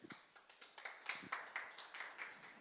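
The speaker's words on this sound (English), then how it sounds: "Can we give Given a round of applause?" An audience at a Namibian pitch-night event claps faintly for a presenter, a thin run of separate, evenly spaced claps rather than a full ovation.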